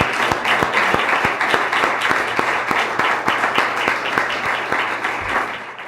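Audience at a candidate forum applauding, a sustained burst of many hands clapping that fills the room and gradually thins toward the end.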